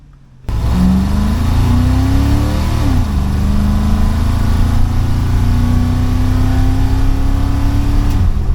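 A car engine fitted with an Edelbrock carburetor kicks in loud after a brief quiet moment, revving up, dropping back sharply, then holding a steady high drone while cruising at speed, close and without talk.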